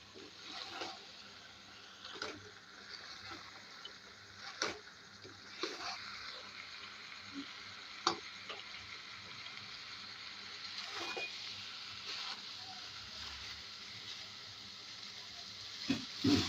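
Ridge gourd (tori) cooks with liver in a pan, giving a soft, continuous sizzle with scattered clicks and spoon scrapes, faint and close throughout.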